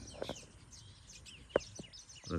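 Small birds, sparrows around a village field, give a few sharp scattered chirps against a faint outdoor background, with one louder call near the middle and a busier burst at the end.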